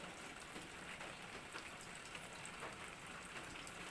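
Steady rain falls outdoors during a heavy downpour, a soft, continuous patter and hiss with no pauses, fairly faint and even throughout, with no voices.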